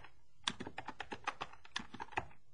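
Typing on a computer keyboard, a quick run of about a dozen close, crisp key clicks in uneven rhythm, heard alone.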